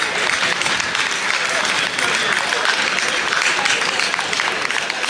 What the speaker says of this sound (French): nous pouvons vraiment remercier le Seigneur avec une acclamation